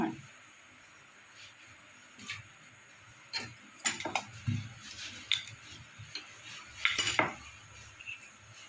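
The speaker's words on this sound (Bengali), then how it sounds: "এবার আমি এগুলো বেলবো ময়দা দিয়ে, তেল দিয়ে বেলা যাবে না" Semolina paratha dough is rolled out with dry flour on a board, giving sparse light knocks and clicks of the rolling pin that grow busier midway, close and fairly quiet with no talking.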